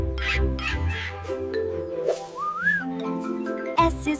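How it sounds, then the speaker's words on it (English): A red-rumped parrot gives a single bright, rising whistle partway through, over steady background music. "R is for red-rumped parrot."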